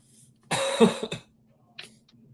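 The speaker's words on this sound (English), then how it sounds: "Since you're not on mute, I heard you clearing your throat." A single close throat clearing, a rough harsh burst followed by a short second rasp, then a faint small noise in near silence.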